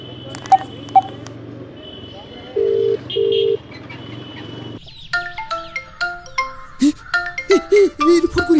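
A phone number is dialed: two short keypad tones sound close by after a few faint taps. A busier stretch of tonal, chirpy sounds follows.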